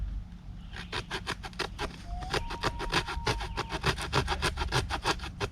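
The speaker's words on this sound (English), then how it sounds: "sawed through that stick with no problem." A folding saw from a survival hatchet cuts through a wooden stick outdoors in a steady run of close, rasping back-and-forth strokes, each a gritty scrape, with a faint engine hum in the background.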